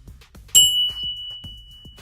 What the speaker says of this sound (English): I wish I had a camera angle for the bell, with the chain bell.